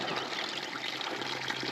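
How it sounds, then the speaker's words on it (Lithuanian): Spring water running down from snowy mountain peaks along a panoramic alpine road, a steady, close, continuous rushing trickle with no voices. "Šitas šaltinėlis teka nuo kalnų"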